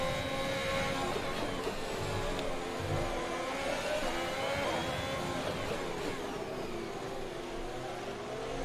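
An F1 car engine from the F1 2021 video game howls at Monaco, a continuous rising and falling whine as the car follows closely behind another, moderately loud with no talk.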